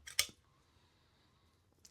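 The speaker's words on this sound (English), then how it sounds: "But this is a guillotine, straight cut." A guillotine cigar cutter snaps once through a premium cigar, giving a single sharp, close crisp click followed by quiet, with a faint second tick at the end.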